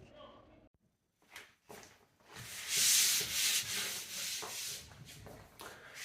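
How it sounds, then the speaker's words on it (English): Light hand sanding of a pine cabinet ahead of painting: after a few scattered knocks, a steady close abrasive rubbing runs for several seconds in back-and-forth strokes. "Going to give it a light sand to get that shine off, and that gives the new paint something to grab into."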